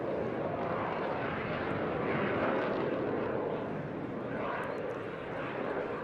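A military jet with an uprated Viper engine flying at Eastbourne International Airshow, a broad, steady roar of engine noise heard from a distance, continuous and fairly even throughout, with a faint voice in the background.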